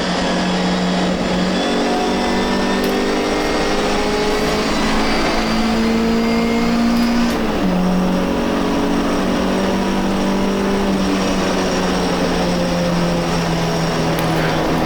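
Engine of an MGB racing car lapping the Silverstone GP circuit, a loud sustained in-car drone with rising and falling pitch through gear changes, continuous and close for the whole stretch without speech.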